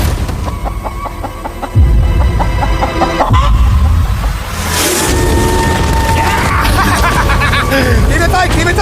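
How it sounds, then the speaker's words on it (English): A chicken clucks close by on an island while loud crowd babble and several voices talk over it, with rustling and handling noises throughout. "Oh, this chicken's actually pretty chill."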